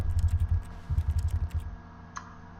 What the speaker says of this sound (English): Every time I press A, it makes a keyboard sound.